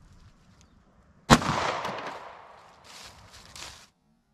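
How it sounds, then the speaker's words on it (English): A single sharp report from a Springfield Hellcat pistol firing 9mm +P ammunition into clear ballistics gel outdoors, a loud crack followed by a fading, rumbling echo and faint rustling. "let's see how it does in one more shot from the Springfield Hellcat."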